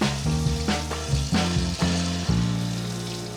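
Panko-breaded pork chops, coated in flour, buttermilk and egg, fry in oil preheated to about 350 degrees, giving a steady close sizzle with a few louder bursts and clatters as pieces are laid in the pan.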